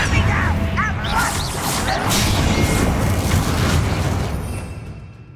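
A Confringo blasting spell explodes in Hogwarts Legacy, a loud crashing boom with whooshing magical flourishes that rolls on for several seconds before fading out at the end.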